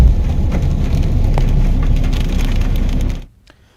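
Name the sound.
rain with strong wind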